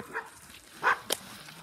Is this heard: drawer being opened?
no